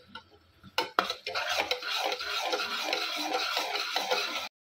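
Masala for mutton kheema cooks in a pan over a low flame, stirred with a utensil. A couple of knocks come first, then continuous close scraping and stirring with a faint sizzle, cutting off abruptly.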